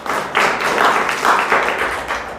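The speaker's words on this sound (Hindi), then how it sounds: "दोनों के लिए ताली बजाओ।" A classroom of students claps for two classmates, giving a short burst of scattered, uneven hand claps that rise and fall over a couple of seconds.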